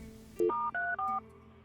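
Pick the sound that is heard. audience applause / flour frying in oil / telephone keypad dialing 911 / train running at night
telephone keypad dialing 911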